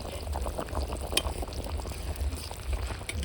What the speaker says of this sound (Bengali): এখন 5 মিনিট হালকা তাপে জাল করে নিব।